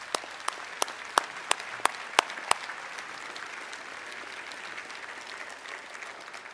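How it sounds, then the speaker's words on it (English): An audience at a utility cooperative's membership meeting claps, starting with sharp separate claps that blend into steady, fairly loud applause filling the room. "Let's give them all a round of applause."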